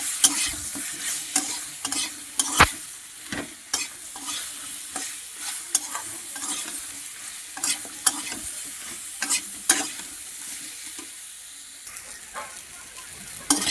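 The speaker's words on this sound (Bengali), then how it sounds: "দেখুন একটু কষিয়ে নিলাম আলুটা দিয়ে।" Potatoes sauté with turmeric and salt in a hot pan, a steady sizzle and hiss running under repeated close scrapes and knocks of a spatula stirring and tossing the pieces.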